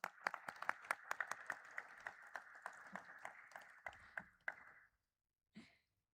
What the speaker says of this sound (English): Give me a bigger round of applause for him